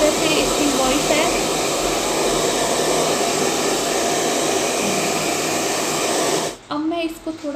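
A CHAOBA 2000-watt professional hair dryer blows with a steady, loud, continuous broadband whoosh that runs unbroken for several seconds before cutting off abruptly near the end, leaving brief quieter sounds.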